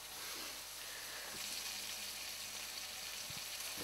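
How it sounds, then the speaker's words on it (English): Food sizzles and spits steadily in a hot frying pan on a home stove, a close, continuous hiss with occasional faint stirring knocks and no talk. "They are sizzling away."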